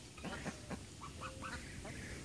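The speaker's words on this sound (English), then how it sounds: "As we have some other baby ducks in there." Several ducks, including young ducklings, give short nasal quacks in a quick irregular series at moderate distance over faint background noise.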